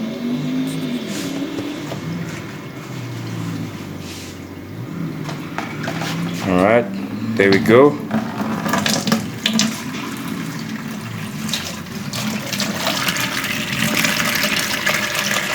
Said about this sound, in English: Alright, so we're taking out the water.